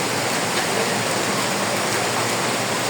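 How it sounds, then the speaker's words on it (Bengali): Heavy monsoon rain pours down in Madaripur, Bangladesh, a dense, continuous hiss of water that stays loud and even throughout, with no voices. "বাংলাদেশে এখন খুবই ভয়ানক পরিমাণ বৃষ্টি হচ্ছে"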